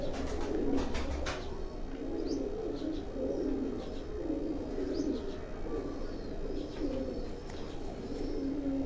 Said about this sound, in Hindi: मियाँ फैसल अब्बास भाई के हाथ में भी उसी घर से आए हुए ये कबूतर हैं